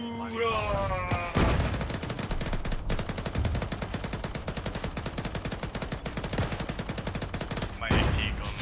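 Gunfire in the World War II video game Task Force Athena, a dense, rapid stream of machine-gun bursts and shots running continuously at a fairly low level, with a voice speaking over it.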